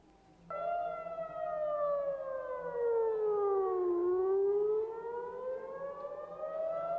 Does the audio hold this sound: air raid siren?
yes